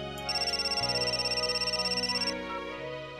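A mobile phone rings with a bright electronic ringtone for about two seconds, loud and close, in a quiet home scene, with no talking over it.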